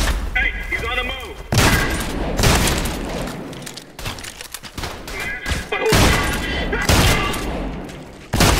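Enemy shotgun blasts in the shooter game Trepang2, several loud booming shots in quick bursts amid chaotic combat noise, with voices shouting over the gunfire.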